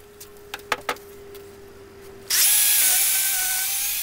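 Power drill countersinking holes in wood for a French cleat tool storage build, starting with a sharp high whine after a few faint knocks and running loud and steady to the end.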